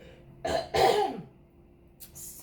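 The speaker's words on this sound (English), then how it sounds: "I keep clearing my throat" A person clears their throat twice in quick succession, close and fairly loud, followed by a quiet pause and faint rustling.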